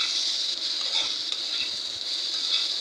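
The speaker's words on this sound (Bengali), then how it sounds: "তেল দেওয়ার পরে পেঁয়াজ কুচি, কাঁচামরিচ এগুলো বেশি করে দিয়ে ভালো করে লাড়াচাড়া দিয়ে" Chopped onions and green chilies fry in oil in a pan and are stirred, giving a constant bright sizzle with soft scraping strokes.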